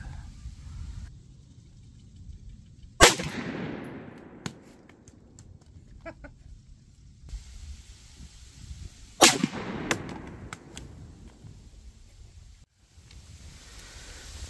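Two sharp 9mm pistol shots ring out about six seconds apart, one from a short-barrel GX4 and one from a long-barrel Glock, fired into ballistic gel outdoors, each loud crack followed by a decaying echo over wind noise.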